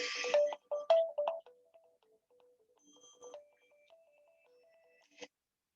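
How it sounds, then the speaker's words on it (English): A mobile phone ringtone plays in a quiet room, a short melodic electronic tune with a few bright louder notes at the start, then softer tones and a final chime. "I think my phone is ringing."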